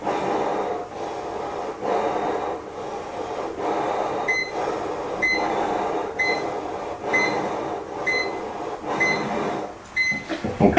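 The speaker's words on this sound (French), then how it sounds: "vous entendez une alarme qui se met en route" A formaldehyde detector's alarm sounds while someone breathes hard into a mask nearby. Short high beeps repeat in regular bursts over rhythmic blowing and inhaling, growing louder toward the end.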